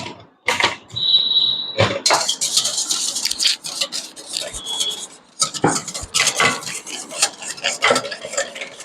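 Cupcake batter stirred in a bowl with a utensil, giving scraping and clinking sounds with irregular knocks against the bowl, close and fairly busy, with no talking.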